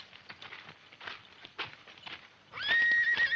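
Horses in a Western film setting: hooves patter and shuffle at first, then a loud, high neigh rings out and holds near the end, close and clear.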